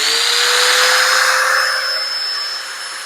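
A Festool Domino DF 700 joiner whirs steadily at high speed, a loud continuous mechanical whine that eases slightly toward the end, with no voices.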